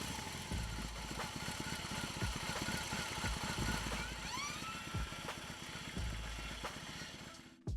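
A BMW R18 motorcycle engine idles and putters in a low, rumbling beat while the bike is eased backward in reverse gear, steady and close for several seconds before it cuts off at the end, with no talking.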